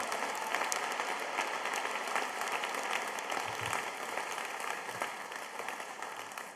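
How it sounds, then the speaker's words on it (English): An audience bursts into applause at a graduation ceremony, sustained dense clapping heard at some distance and fairly soft, steady throughout with slight tapering near the end. "please do break out in applause again"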